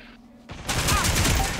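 Video game gunfire erupting after a brief quiet moment: a dense, rapid burst of shots, loud and close, with a voice talking over it.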